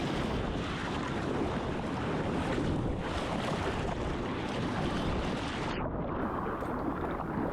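Ocean surf breaks at Remarkable Caves in Tasmania in a continuous loud roar of crashing, churning water, with wind buffeting the microphone throughout.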